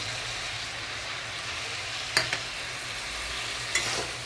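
Crab and spices stirred and sautéed in a pan give a steady sizzling hiss, broken by two brief scraping strokes of the spoon near the middle and end, with no talk.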